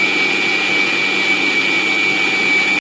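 A kitchen mixer grinder whirs loud and close as it blends green chillies and curry leaves with small stems into a paste, a steady high whine that cuts off abruptly at the end.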